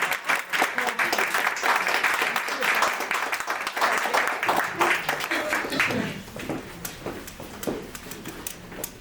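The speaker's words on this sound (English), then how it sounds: "A big round of applause." A big round of applause at a ghazal and Sufi concert, dense clapping from the audience that swells and then thins out toward the end.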